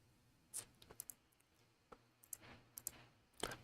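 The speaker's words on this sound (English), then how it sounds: "Joe, I just kept clicking" A computer mouse clicks in sparse, irregular bursts of sharp, close, quiet taps, some single and some in quick pairs, with no talking.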